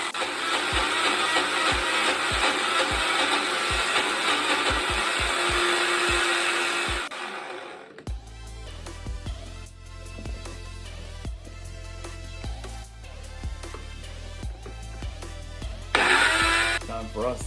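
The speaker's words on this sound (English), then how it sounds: "Put the lid on, give it a good blend, and I'll show you how the paste looks." A blender whirs loudly and steadily while blending mint paste with oil, then cuts off and gives way to quieter kitchen handling noises and scattered clinks.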